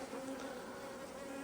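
Honeybees hum around their hives in a steady, close, unbroken buzz with a clear tonal drone, no talking over it.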